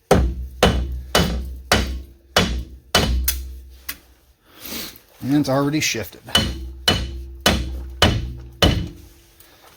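A rubber mallet striking repeatedly to tap an Acura TL rear strut out of its hole in the knuckle, giving loud regular thuds in two bursts with someone speaking in the pause between them.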